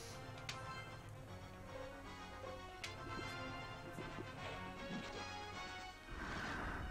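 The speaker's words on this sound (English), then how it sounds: "pixel shatter" Digital pixel shatter effect as an enemy is destroyed in the 3DO game Lucienne's Quest, a short crash burst amid continuous game music and clicks, with a brighter swell near the end.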